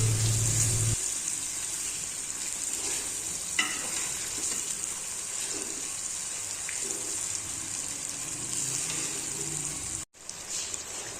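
Saag and chicken fry in a pot, a steady soft sizzle with occasional stirring scrapes and clinks, fairly close, with no voices.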